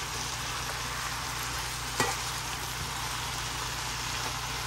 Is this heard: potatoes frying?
yes